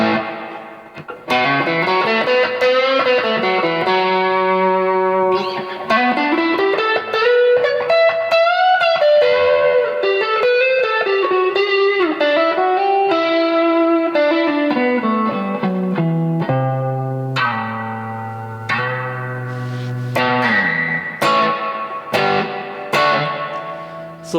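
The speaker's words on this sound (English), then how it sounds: "turn off our modulation and put on our reverb." Electric guitar notes and sustained chords played through a reverb pedal ring out with a spacious, washed tail, played continuously and loud with no talking.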